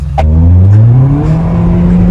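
A French Group N sleeper car's engine revs hard close by, one loud rising roar that climbs in pitch and holds strong for about two seconds.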